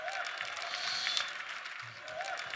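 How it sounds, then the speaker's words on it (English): Audience applause at a business growth conference: a fairly faint, steady wash of clapping from a crowd, with a voice talking over it. "you can clap for that"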